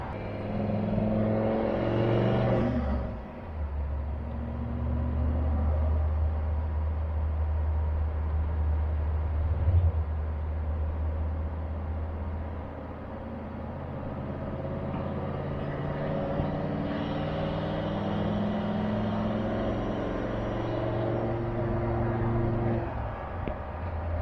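A car cruises smoothly at steady speed, its low engine hum and road rumble continuous and close throughout, with a brief dip near the start.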